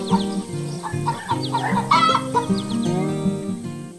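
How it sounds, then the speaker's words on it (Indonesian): Brown and black chickens clucking and calling in a warm barn, several birds close by with overlapping clucks and squawks, with no talk. "Ayam-ayam coklat dan hitam berdiri di rak jerami yang hangat."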